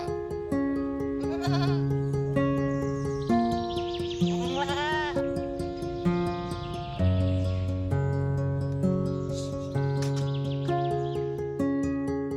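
Goats in a village livelihood project in Bundelkhand bleat repeatedly, the calls alone and close, heard over a steady musical backing that runs throughout.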